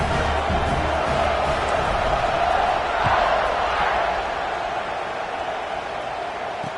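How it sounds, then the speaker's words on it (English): A stadium crowd at a football game roars steadily as the kickoff unit lines up after a scoring drive, a dense, continuous wash of cheering with slight swells throughout. "this crowd is feeling themselves after that last drive"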